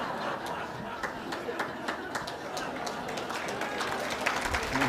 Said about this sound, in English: I'm so excited you're all clapping for that